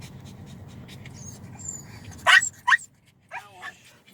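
A small dog lets out a few sharp, high-pitched barks and whimpering yips in quick succession, close by, after a stretch of low rumbling background noise.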